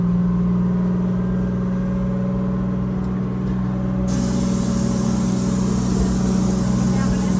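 A 1973 American LaFrance Pioneer fire truck coasts with the clutch pushed in, its engine giving a steady, close, low drone that holds evenly throughout with no revving.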